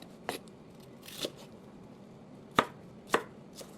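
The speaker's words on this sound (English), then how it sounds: "I'm just gonna cut that tip off." A knife chops through an onion tip on a board, giving a few separate crisp cuts with pauses between them, the last two sharper and louder, close by in a quiet kitchen.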